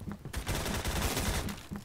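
Rapid bursts of automatic gunfire in the Roblox shooter game Phantom Forces, a loud dense volley of shots crackling for over a second after a few quick single reports, no talking.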